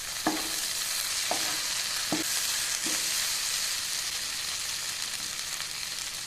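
Spicy cauliflower fry sizzles steadily in a pan on the stove while a spoon stirs it, with four distinct scraping strokes near the start over the constant hiss of frying.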